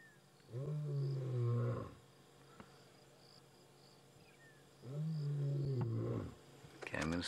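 A lion roars at close range in two long, deep, groaning bursts separated by a quiet pause, loud and near, with faint insect chirping in the background.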